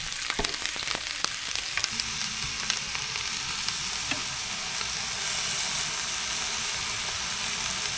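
A marinated steak sizzles and spits in a pan at a van campsite, a steady, fairly loud frying hiss with scattered sharp crackles and pops early on.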